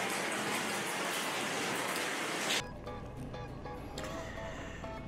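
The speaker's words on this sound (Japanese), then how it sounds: "まだね、雨が結構降り続いてるんで" Rain falls steadily as a dense, loud hiss that cuts off halfway, leaving a quieter wash of ambient noise, heard during a rainy Lake Biwa motorcycle tour.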